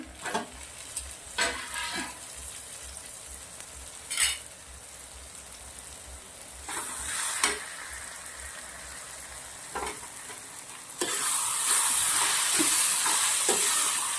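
Panpatti matar curry cooks in a covered pan over low heat, giving a steady soft sizzle with occasional stirring scrapes and clinks of a spoon, then a louder bubbling hiss near the end as the lid comes off.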